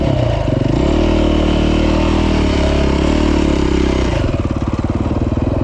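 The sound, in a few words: KTM 450 EXC motorcycle engine after kickstarting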